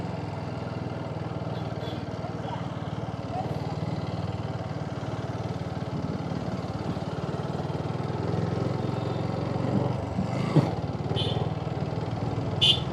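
A motorcycle engine runs steadily at close range in a busy spot near a hilltop temple, a continuous low idle-like drone with slight swells and a couple of brief sharper sounds near the end.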